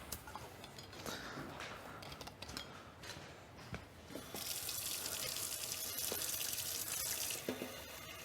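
Water runs steadily from a tap, a broad hiss that swells louder partway through and continues, with faint clatter and low background noise around it.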